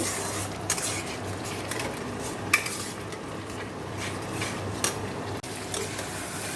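Spice masala is stirred and fried in a pan with steady scraping and a few sharp clinks of a spoon against the metal over a low sizzle, close up and with no voices.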